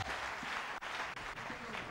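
Church congregation applauding, a dense, steady wash of clapping from many hands that fills the whole moment without pause.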